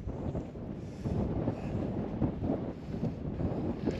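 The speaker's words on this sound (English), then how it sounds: "We're up in the up on the tours, the wind's whipping." Strong wind buffets the microphone on an exposed granite tor on Dartmoor, a continuous low roaring rush with gusty swells throughout and no other sounds.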